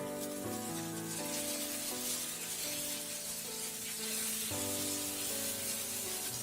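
Leftover milk mixture is poured around slices of egg bread French toast in a hot pan, giving a steady, faint hissing sizzle that continues under background music.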